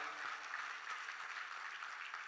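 Applause from an audience at a live Marathi music show, a steady wash of many hands clapping that sounds distant and fairly faint, continuing evenly throughout.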